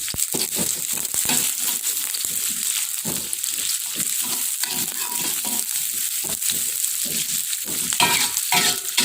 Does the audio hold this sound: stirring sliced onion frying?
yes